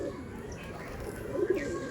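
Pigeons coo softly in low, throaty murmurs against a faint steady background, moderately close but quiet.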